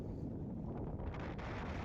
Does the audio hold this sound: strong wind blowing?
yes